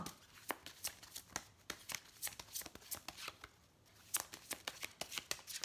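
An oracle deck of ascended masters guidance cards is shuffled by hand in a quick, rhythmic run of soft riffling snaps, faint and close, pausing briefly before resuming.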